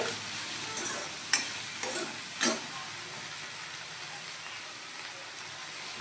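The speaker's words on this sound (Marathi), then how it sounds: "ॲड केल्याच्यानंतर हलवून घ्यायची तेलात फ्राय करू आपण भेंडी" Okra frying in oil with cumin and mustard seeds, an even close hiss with several sharp spatula scrapes and clicks as it is stirred, no talking.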